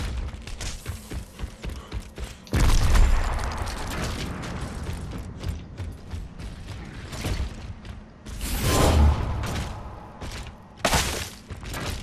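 A frag grenade is thrown and explodes in Gears of War Ultimate Edition multiplayer on the Gridlock map, two loud broadband bursts standing out from clattering mechanical game noise.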